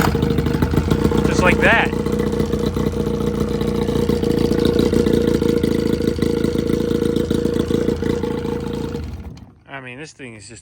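An old Evinrude outboard motor on a boat runs with a loud, steady idle chugging, then cuts out near the end; someone speaks briefly over it.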